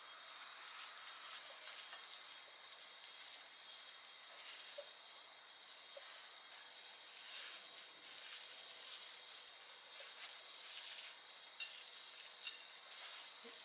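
Breaded börek, dipped in egg and breadcrumbs, fries in a pan with a steady crackling sizzle and scattered small pops, close and continuous throughout with no talking.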